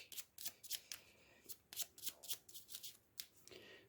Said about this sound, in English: I will shuffle all the necessary decks on camera.